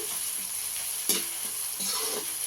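Ingredients stirred and fried in a pan as part of making mutton curry, a steady bright sizzle running throughout with a few soft spatula scrapes, close and unaccompanied by voices.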